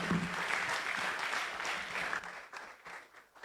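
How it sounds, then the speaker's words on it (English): Audience applause at a youth investment and financial literacy programme event, moderately distant clapping that thins out and becomes patchier toward the end. "Please keep clapping till she takes her seat."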